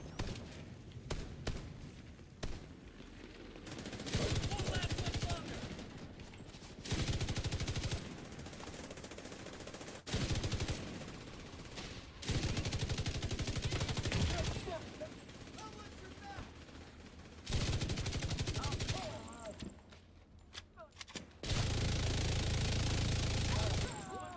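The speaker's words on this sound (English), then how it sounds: "Why is our guy shooting towards us?" Sustained bursts of rapid automatic gunfire from a firefight in The Division 2, loud and dense, coming in repeated multi-second volleys separated by brief lulls, with a voice talking over parts of it.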